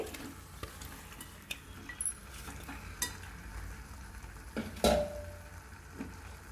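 Fish frying in a simmering tomato curry, giving a soft, steady sizzle broken by scattered clinks and a sharper pan scrape near the end, with no talk over it.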